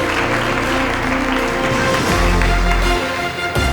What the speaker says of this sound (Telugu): గట్టి చప్పట్లతో మనం ఆహ్వానిద్దాం సార్.